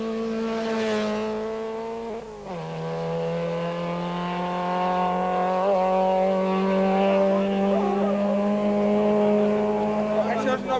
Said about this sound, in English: One by one, in 2-minute intervals, the cars enter the stage.